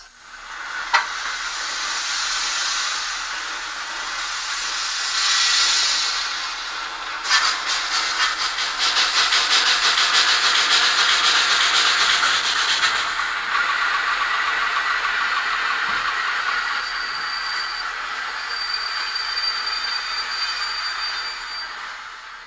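A PIKO N-scale BR 82 model steam locomotive runs with continuous hissing, chuffing and rolling noise for over twenty seconds, loud and steady, with a faint high whine appearing toward the end.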